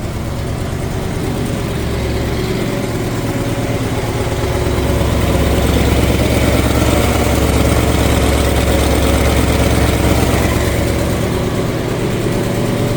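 A 1964 Mercury Comet 404 wagon engine idles steadily with its choke on while it warms up, a continuous loud, low rumble with an even pulse that holds for the whole stretch, with no one talking.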